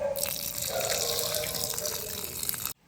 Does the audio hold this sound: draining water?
yes